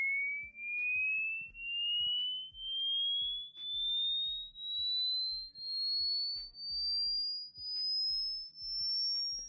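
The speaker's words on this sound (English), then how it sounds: "This test will determine how old your hearing is." A steady, high-pitched sine tone from a hearing age test sweeps slowly upward in pitch for the whole stretch, loud and alone apart from faint soft bumps and thuds underneath.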